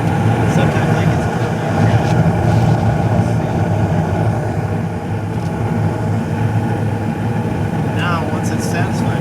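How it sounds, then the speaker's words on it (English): A gas furnace blower runs with a steady, loud whooshing hum that holds without a break for the whole stretch. "then the blower will kick back on"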